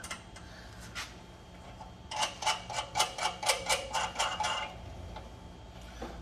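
Tightening bolts on the spare tire mount of a Jeep Wrangler with a hand tool gives a quick run of about ten evenly spaced metallic ratchet clicks close by, with a few lighter ticks before and after.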